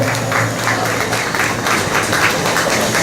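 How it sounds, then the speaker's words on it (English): Walkers and supporters at a 2016 Reaching Out Community Services walk in New York applaud loudly and steadily, a thick wash of clapping that holds at an even level throughout. "they definitely deserve a round of applause for what they do in the 5 boroughs of New York"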